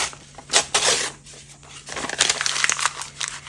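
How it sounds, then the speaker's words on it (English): An old, grungy paper envelope is torn up by hand, giving intermittent close crinkling and ripping bursts of paper with short pauses between them, no voices. "I've got an old envelope which is pretty grungy, which I'm going to tear"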